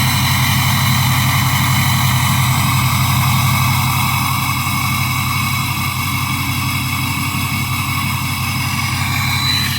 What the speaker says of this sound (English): if you listen to the exhaust, it sounds like a steady acceleration